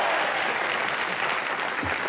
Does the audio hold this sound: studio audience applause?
yes